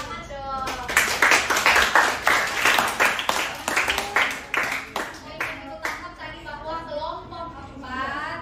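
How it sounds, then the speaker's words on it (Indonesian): Classroom applause from a group of students, dense rapid clapping that swells loud for several seconds, then thins into scattered claps with voices talking over the tail. "Jadi tepuk tangan dong."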